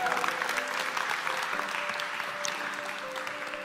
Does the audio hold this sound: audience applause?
yes